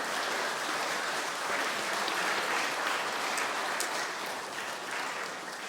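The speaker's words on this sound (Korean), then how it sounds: "한번 환영의 박수를 다시 한번 따뜻하게" A church congregation at a Sabbath worship service gives warm welcoming applause, a steady, full wash of many hands clapping together that keeps the same loudness for several seconds.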